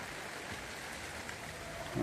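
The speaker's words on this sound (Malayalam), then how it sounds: "മഴ ഇങ്ങനെ പെയ്യുന്നുണ്ട്" Rain falls steadily outdoors around an old restored electric auto-rickshaw, making a soft, even hiss with a slight swell at the very end.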